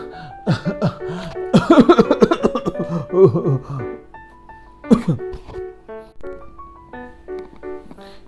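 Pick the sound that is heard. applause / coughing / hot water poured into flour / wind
coughing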